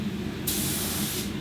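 A spray gun hisses out clear coat onto uneven carbon fibre, a loud steady burst of spray starting about a third of the way in and cutting off near the end, over a low background hum.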